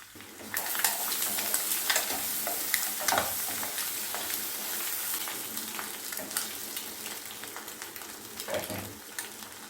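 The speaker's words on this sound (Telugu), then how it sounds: "ఒక 3 మినిట్స్ ఆయిల్లో ఇలా ఫ్రై అవ్వాలి" Boiled eggs fry in oil in a pan for a mutton-fry-style egg dish, a steady crackling sizzle with scattered pops and stirring scrapes, close and fairly quiet, no talk.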